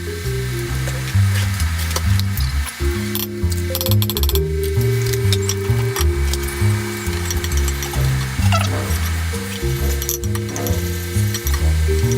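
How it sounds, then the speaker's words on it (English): Finely chopped onions sweating in a hot pan, a constant close sizzle and frying hiss beneath a louder background of music. "We're going to just sort of sweat them now till they go golden."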